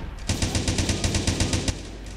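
Rapid automatic gunfire in the blocky shooter game Blockstorm, a loud burst of about fifteen evenly spaced shots lasting under two seconds, then quiet.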